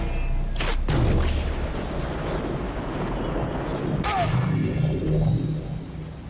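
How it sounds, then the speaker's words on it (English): Two Predator bow shots fired in quick succession in a video game, heard as a pair of sharp loud releases a few seconds apart, each followed by a brief whoosh, over steady windy ambience. "I'm going to take 2 shots at this guy in quick succession to get him down"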